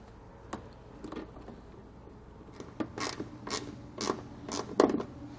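Torque bit driving bolts into a WeatherTech mud flap on a 2018 Chevrolet Silverado, heard as a series of sharp creaking, ratcheting clicks that grow louder toward the end.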